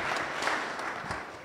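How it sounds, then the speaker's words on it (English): Church congregation applauding the choir at a Pentecost service, a steady wash of many hands clapping at moderate distance, fairly quiet and even throughout. "Let's give them a better hand clap."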